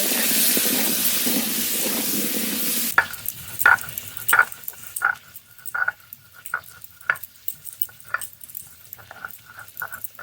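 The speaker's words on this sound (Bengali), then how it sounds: "লবণ হলুদ গুঁড়ো আলু খুব ভালো করে ভেজে নেব" Cut potatoes frying with salt and turmeric powder in a pan: a dense, loud sizzle at first, then quieter crackling broken by sharp scraping and clinking of a spatula stirring.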